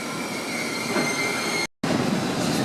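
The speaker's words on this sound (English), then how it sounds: "French Thalys train." A Thalys high-speed train rushes past nearby with a steady roar and a high metallic wheel squeal, broken by a brief sharp dropout.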